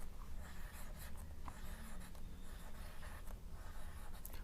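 Pen writing a statement on paper for a maths fractions and decimals exercise, a steady soft scratching with faint strokes over a noisy background, no talk.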